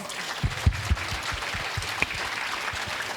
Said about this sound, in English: Can we pause and give them another round of applause?